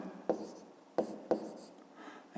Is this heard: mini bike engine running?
no